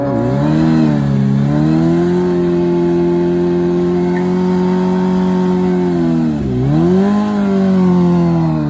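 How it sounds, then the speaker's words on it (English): A motorcycle engine revs hard and holds a steady high-rpm drone at a drag strip that hosts grudge and street-style racing, dipping briefly and climbing again near the end; loud and close, with no talk. "And you see all types of different motorcycles."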